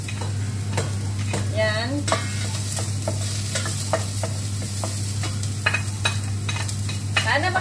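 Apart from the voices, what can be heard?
garlic and onion frying in a pan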